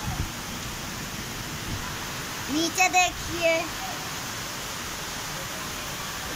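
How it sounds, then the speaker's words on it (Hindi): Heavy rain pours down outdoors as a steady broadband wash throughout, with someone speaking briefly over it near the middle. "आज बहुत तेज बारिश है।"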